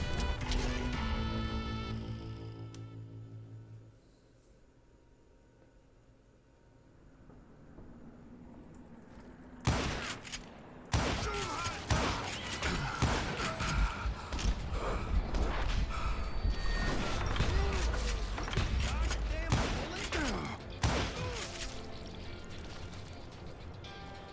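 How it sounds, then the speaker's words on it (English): Rapid Gatling gun fire from a shielded position in a tunnel in Call of Juarez: Gunslinger, a dense chatter of shots starting abruptly after a quieter stretch and continuing loud to the end. "Kid Curry opened up on me with a goddamn Gatling gun"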